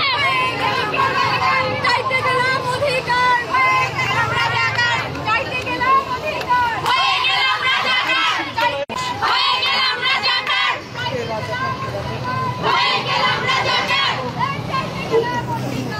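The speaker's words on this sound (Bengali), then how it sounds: "অনেক হলের ভিতরে শিক্ষার্থীরা রাজাকার রাজাকার স্লোগান দিচ্ছেন" Students marching at night in a protest near the TSC, crowd voices chanting slogans in loud rhythmic waves, with shouting and babble of many people close by.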